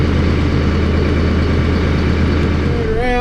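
A tractor engine runs loud and close at a steady idle, a continuous low rumble with no break through the whole stretch.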